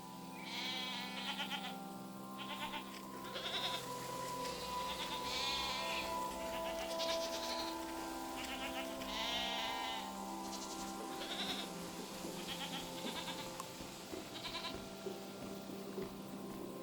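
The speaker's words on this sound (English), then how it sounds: "I'm petting this goat for you." Goats in the Season video game bleat repeatedly over a steady tonal background hum, with calls recurring every second or two at moderate distance.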